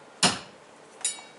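Two sharp metallic taps of a hammer on a transfer punch while marking a hole on a Honda Pioneer door, a strong first strike and a lighter second about a second later, close and ringing.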